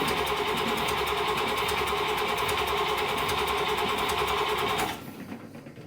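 A Buick Nailhead engine in a vintage dragster runs steadily and loud, with a continuous dense roar and rapid firing pulses for about five seconds, then cuts off abruptly into a quiet near-silence.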